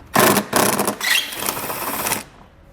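A power tool or driver whirs in bursts while 8mm screws are removed from behind the rear lenses of a 2021 BMW X5, with three close, loud runs of mechanical buzzing that fade out at the end.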